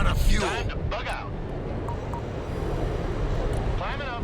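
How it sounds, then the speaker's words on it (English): Jet aircraft in the Broken Arrow video game heading back to base, a steady broadband engine roar and rushing air holding throughout, with voices speaking over it at the start and end. "Send the plane back to base before it runs out of fuel."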